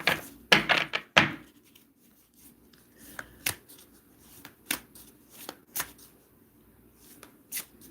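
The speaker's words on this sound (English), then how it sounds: "Let me fix my cards, please." Tarot cards being shuffled and squared up by hand: a few quick riffling bursts near the start, then scattered soft taps and thumps as the deck is straightened, close and fairly quiet.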